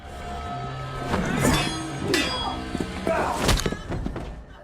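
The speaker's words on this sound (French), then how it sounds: "accompagné du bruit des armes résonnant dans le couloir" Dull thuds and clanging impacts with a roomy, echoing tail, like weapons striking in an enclosed corridor, over a low background rumble.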